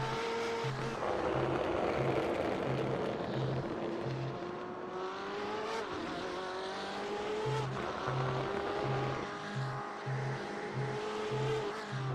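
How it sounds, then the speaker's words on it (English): BMW race cars cornering at Okayama in the iRacing sim, engines droning and shifting pitch through the bends with tyre squeal and the stuttering pulse of traction control cutting in, steady and close throughout. "You can hear that is a little bit of that stability and traction control through the corners for Fikachi there."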